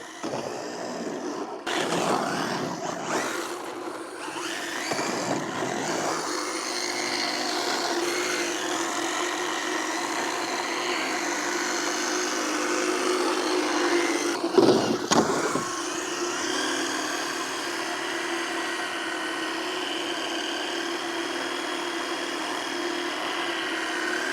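A small on-road RC car with new wheels slides around a concrete skate park, a thin, whining electric motor rising and falling over tire scrub, with a sharp clatter midway.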